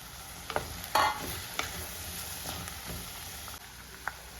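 Okra added to onions frying in a pan for a Kerala-style dish, with a steady close sizzle broken by a few scraping stirs and one louder clatter as the okra goes in.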